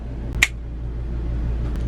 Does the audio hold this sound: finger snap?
yes